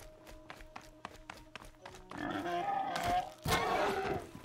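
In a video game, short pig grunts repeat in a steady rhythm, then a burst of louder, noisy squealing and rustling takes over near the end.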